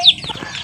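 A chicken gives a single short, close cluck, quick and moderately loud, with no talk over it.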